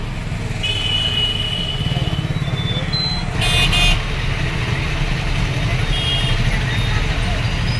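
A vehicle travels along a road near Buldhana, its engine giving a constant low rumble from inside, with a brief horn toot partway through and shorter horn notes near the end.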